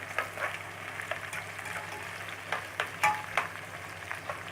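Sliced onions frying in plenty of oil, a steady close sizzle broken by sharp scraping stirs that come irregularly through the pan noise; no one speaks.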